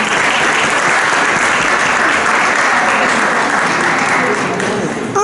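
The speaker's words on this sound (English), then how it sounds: "can we give them another round of applause?" A room full of people at a school board of education meeting gives a loud, continuous round of applause, dense and even throughout with no break.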